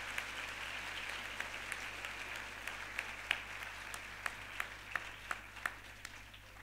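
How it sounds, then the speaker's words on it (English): Sustained audience applause at a HELP University convocation ceremony, a steady, fairly soft wash of many hands clapping with a few sharper claps standing out throughout. "Give them a loud applause."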